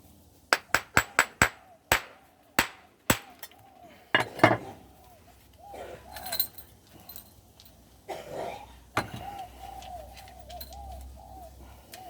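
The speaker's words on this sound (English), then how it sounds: "So you just use your different hammers depending on what you want to do." A hammer strikes hag-stone flint while spalling, with a quick series of sharp knocks followed by sparser clacks and rattling flakes, as pigeons coo in the background.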